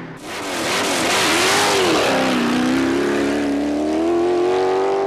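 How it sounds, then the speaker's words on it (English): A V8-powered Scott Clymer hillclimb car at the 1997 Inistioge Hillclimb roars loudly up through its revs, the engine note rising and holding strong and close without any voices. "Horik Ford's mighty V8-powered Scott Clymer is a brute to handle."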